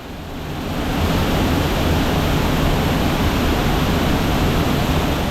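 A steady, powerful roar of rushing water, broadband and constant, swelling in over the first second and then holding loud and close.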